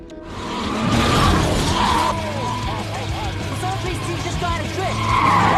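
A red car crashes during racing practice in a film scene, with screeching tires, engine noise and shattering impacts, while a voice talks over the action.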